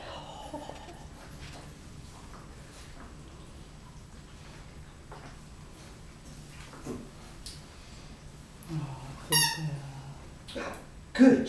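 A squeaky toy squeaks a few times in bright, short bursts near the end, close by, amid a quiet room with soft background voices.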